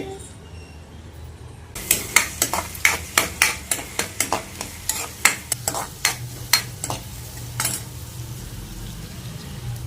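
Onion fries in heated oil while a spatula strikes the pan in a rapid run of close, sharp knocks and scrapes, followed by a quieter steady sizzle.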